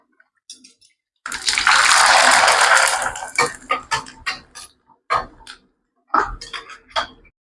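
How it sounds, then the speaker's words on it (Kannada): Rice papad dropped into hot oil gives a loud burst of bubbling sizzle, then scattered crackles and clicks as it fries, with short clatters of a utensil against the pan. "ಈಗ ಹಪ್ಪಳ ಫ್ರೈ ಮಾಡುನು."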